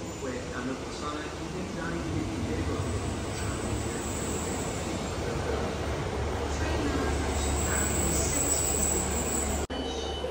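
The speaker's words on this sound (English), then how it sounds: "train station here in Cardiff and we're waiting for our train" Train noise at a railway station in Cardiff, Wales: a steady low rumble of rolling stock and engine with faint high squeal, continuous and fairly close, under a background of people talking.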